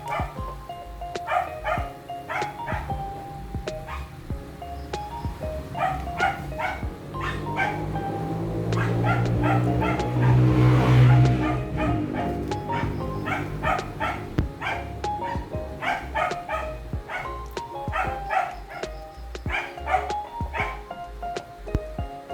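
Several pet dogs bark, yip and whimper repeatedly in a household kitchen during cooking, a busy, fairly close chorus of yaps with a louder stretch in the middle.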